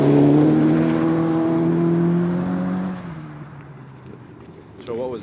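A rally car at Dirtfish comes off the brakes and gets back on the gas on a dirt stage, its loud engine note holding steady, then rising and falling before fading. A short burst of revving follows near the end.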